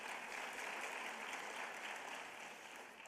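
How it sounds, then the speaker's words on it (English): Audience at a teacher of the year celebration gives a sustained round of applause, a dense even crowd clapping that stays steady and fades slightly at the end. "a big round of applause as well"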